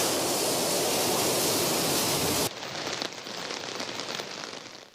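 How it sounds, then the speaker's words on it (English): A heavy morning downpour in Nigeria's Federal Capital Territory roars as a dense, steady hiss, then drops to a lighter but continuous patter of rain partway through, with no voices. "Residents of the Federal Capital Territory this Thursday woke up to a heavy downpour that kept many indoors."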